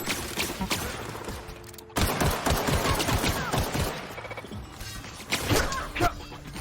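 Rapid bursts of gunfire from The Outer Worlds video game crackle densely and loudly in volleys, with sharp impacts and a brief pause before firing resumes.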